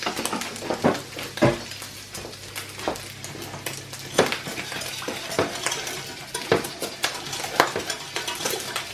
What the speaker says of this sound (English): we're always going to stir, and we're stirring so it doesn't catch